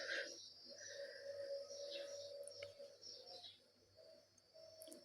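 Birds in a backyard coop calling, with soft pigeon-like cooing and scattered chirps over a steady low hum, fairly quiet and continuous with no one talking.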